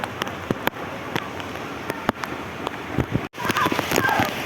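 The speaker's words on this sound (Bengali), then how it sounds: "বৃষ্টি আরো জোরে বেড়ে গেছে" Heavy rain pours onto a flat rooftop already pooling with water, a loud, dense roar of drops punctuated by sharp cracks and taps, swelling stronger toward the end.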